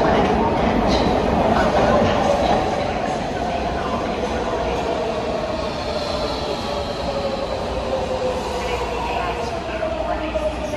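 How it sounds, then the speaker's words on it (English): A MARTA blue line metro train rumbles and hums steadily as it rolls into the station, a rising drone with faint wheel noise and some background voices on the platform. "An eastbound blue line train is approaching the station."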